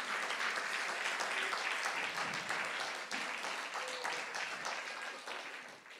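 A church congregation applauds to acclaim the Lord at a French-language evangelistic service, a steady, dense wash of clapping that holds for several seconds and then eases off slightly at the end.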